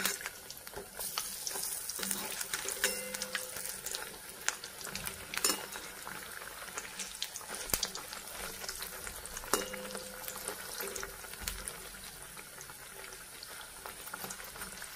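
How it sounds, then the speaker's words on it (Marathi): A chapati-based snack with boiled potato frying in a pan, crackling and sizzling steadily throughout with occasional soft stirring clinks and scrapes, close and fairly quiet. "छान असं तळून घेऊ आपण ह्याला"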